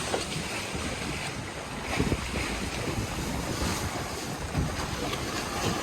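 Steady wind rushing past the microphone over the wash of waves as a sailboat runs across the Pacific in a 20 to 22 knot breeze off the port quarter, with louder gusts and splashes now and then.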